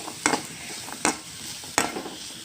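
Ginger sautés in a kadai for chutney under a quiet, steady sizzle, with three clear scraping and stirring knocks of a utensil against the pan at even intervals.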